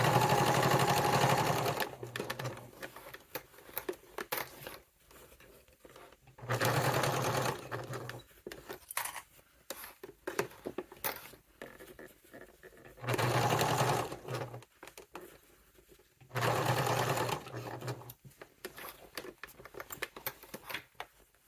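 Close bursts of a sewing machine stitching binding onto a satchel bag, four or five runs of steady motor whir separated by handling noises and short pauses.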